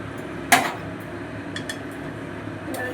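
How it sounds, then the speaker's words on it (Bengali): A spoon stirring a lentil mixture of half mung and half masoor dal with pumpkin greens in a pan over a high gas flame makes one sharp metallic clank, then a few lighter scattered clinks over a soft background hiss. "এবার আমি নাড়তে থাকবো হাই ফ্লেম, গ্যাসের হাই ফ্লেমে"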